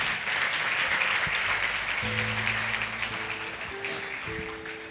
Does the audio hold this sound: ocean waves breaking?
no